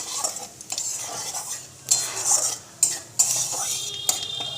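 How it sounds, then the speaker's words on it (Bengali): Nigella seeds tempered in hot oil after dried red chillies, with fried catla fish set aside, crackle and hiss while a utensil clinks and stirs against the pan in a few louder bursts. "এই দেখো কালো জিরে ফোড়ন হলো"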